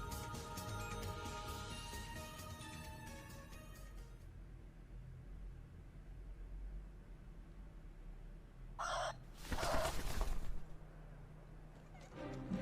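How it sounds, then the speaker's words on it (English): In the game Ys IX, an owl's call comes out as a strangled, chicken-like squawk in two short bursts near the end, following a stretch of musical game audio that fades out. "Was that supposed to be the sound of the owl? It sounded more like someone choking a chicken."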